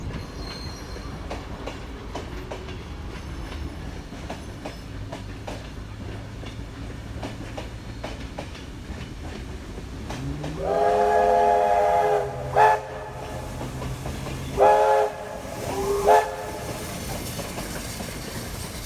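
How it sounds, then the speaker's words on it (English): A steam locomotive, number 4807, pulls a train past with steady rail noise, then a loud whistle sounds in a few bursts near the end, alone without voices. "just in time to see 4807 pulling the train on the return journey"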